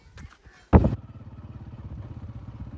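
A motorcycle starts with a loud burst, then settles into a steady, rhythmic engine putter as it pulls away, close by, with no talking.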